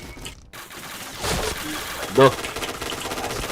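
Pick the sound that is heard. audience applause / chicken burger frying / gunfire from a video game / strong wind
gunfire from a video game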